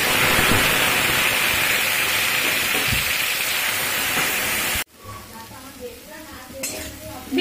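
Ginger, garlic and onion paste frying in hot oil in a pan over a low gas flame for chicken paratha, a loud steady sizzling hiss that cuts off abruptly, followed by quieter clinks and scrapes of utensils.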